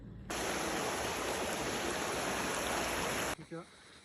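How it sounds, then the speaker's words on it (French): A small waterfall stream in a Vietnamese forest rushes in a steady, dense broadband roar that holds evenly for about three seconds, then cuts away to quieter ambience with a brief voice. "Des petites cascades comme ça, on en voit régulièrement."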